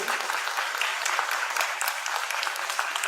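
Audience applause welcoming Lok Sabha Speaker Om Birla at a student convention, dense sustained clapping from a large crowd, even and continuous throughout.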